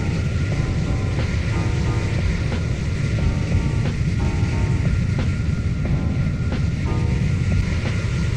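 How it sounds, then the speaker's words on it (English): A steady, rumbling jet engine roar in a Roblox flight simulator game, with broad windy noise, punctuated by faint periodic beeping tones at regular intervals. "The jet sounds are also realistic"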